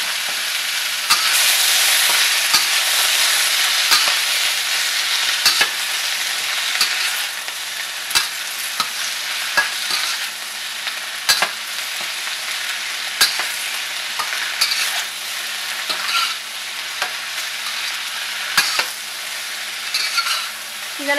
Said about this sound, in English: take the bok choy cabbage, all cut up, and put it in your wok